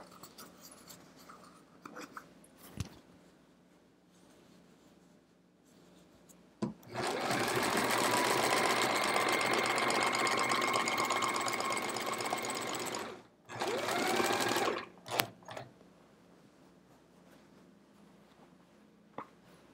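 A sewing machine stitching binding onto a hedgehog wall-hanging quilt: a steady, loud mechanical whir runs for several seconds, breaks off briefly, then resumes in a shorter burst, framed by quieter handling sounds.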